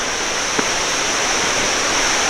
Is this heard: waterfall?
yes